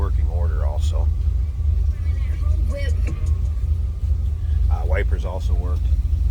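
A 1957 Chevrolet Bel Air two-door hardtop with a small-block Chevy V8 idles steadily with a deep, close rumble, while voices talk intermittently over the engine.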